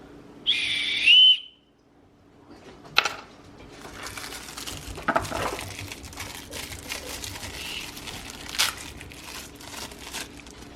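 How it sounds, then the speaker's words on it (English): A short, shrill blast from a survival-kit whistle rings out alone near the start, followed by crinkling and rustling handling noises. "I think it's a whistle."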